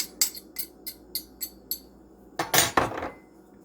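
Flour, baking powder, salt and orange zest being mixed in a bowl for cranberry orange scones: six evenly spaced clinking taps of a utensil against the bowl, then a brief louder scraping flurry.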